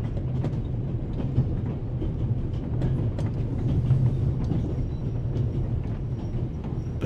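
Steady rumble and rhythmic clatter of a moving passenger train in a Swiss setting from The Raven Remastered video game, continuous and moderately quiet with no voices.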